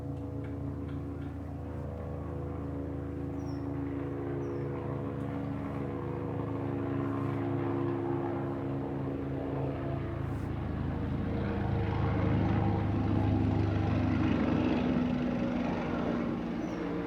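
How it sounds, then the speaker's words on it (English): A helicopter flying over, a steady low rotor drone with a rhythmic beating thrum that slowly grows louder across the stretch, heard alone without talk. "Now we're going to have a helicopter come over as well."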